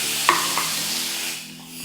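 Chopped tomatoes going into a hot pan of tempered chutney seasoning, stirred with a sharp scrape, then a steady close sizzle and frying hiss with a second light stir.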